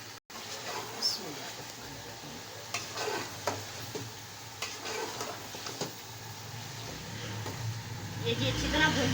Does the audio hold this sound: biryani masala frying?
yes